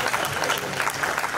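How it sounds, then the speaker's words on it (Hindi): Applause at a song launch event, a dense continuous patter of many hands clapping from a crowd, steady and fairly close. "अभिनंदन जोरदार तालियों के साथ"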